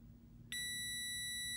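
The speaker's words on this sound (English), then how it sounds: "we also hear an audible buzzer" A multimeter's continuity buzzer kicks in abruptly as test leads touch, a loud steady high-pitched tone that holds without a break over a low hum.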